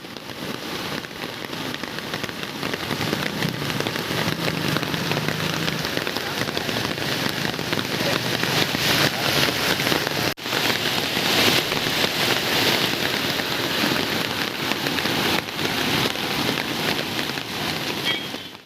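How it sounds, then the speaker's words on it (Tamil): Heavy rain pours down in Coimbatore, a dense, unbroken hiss of drops hammering surfaces, loud and steady throughout with no voices. "கோவை மற்றும் அதன் சுற்றியுள்ள மாவட்டத்தின் பல்வேறு இடத்தில் பரவலாக கனமழை பெய்து வருகிறது."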